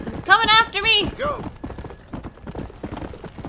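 Zombie horse galloping in Red Dead Redemption: Undead Nightmare, a rapid rhythmic hoof patter running steadily at moderate loudness behind a brief burst of excited shouting at the start.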